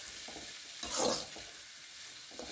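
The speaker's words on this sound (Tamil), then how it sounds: "இப்போ இதையும் கொஞ்ச நேரத்துக்கு கிளறி விட்டுட்டே இருக்கலாம். இது எண்ணெயிலேயே நல்லா வதங்கி வரணும்." Vegetables for a poriyal sautéing in oil, giving a soft, steady hiss of frying with a brief surge of scraping as they are stirred in the pan.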